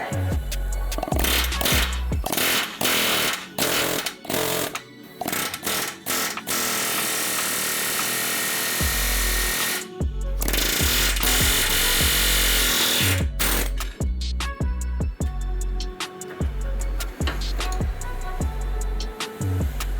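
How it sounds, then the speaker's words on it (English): Snap-on long barrel air hammer cutting brackets off a Jeep YJ frame, loud rapid pneumatic hammering in repeated bursts with short pauses, close up and without talk. "now we got the big old snap-on long barrel. Should make quick work of it."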